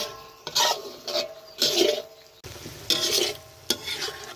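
Curry paste and coconut cream are stirred and scraped in an iron pan with a steady sizzle underneath, in several rhythmic bursts, close and fairly loud, no voices.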